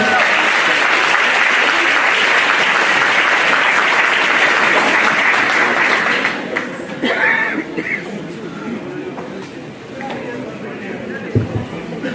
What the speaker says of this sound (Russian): Пожалуйста, ваши аплодисменты.